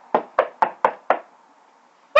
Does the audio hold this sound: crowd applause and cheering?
no